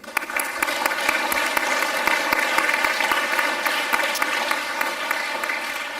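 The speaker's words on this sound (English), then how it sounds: "Please give Mark a round of applause" An audience at the 2017 International Peace Conference, a UNESCO event, applauds with dense, continuous clapping that holds steady for several seconds, with sharp individual claps standing out from the crowd.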